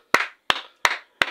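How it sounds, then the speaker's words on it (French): Four sharp hand claps from a single person, close and evenly spaced about a third of a second apart, each with a short reverberant tail, and no voices. "Vraiment, on t'applaudit."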